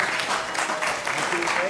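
An audience at a Social Security retirement conference claps for a congressman, a brief moderate burst of applause heard from within the room with no voices over it.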